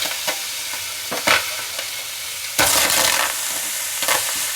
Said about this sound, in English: Now to the pan, we're going to add 1 onion cut in half, 2 tomatoes cut in half